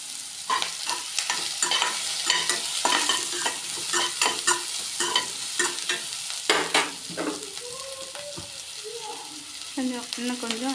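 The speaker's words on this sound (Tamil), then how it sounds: "ஆனியனை கொஞ்சம் போட்டு வதக்கணும்." Onions sauté in a pan for chutney, sizzling steadily under repeated spatula stirs and scrapes, with a voice briefly heard near the end.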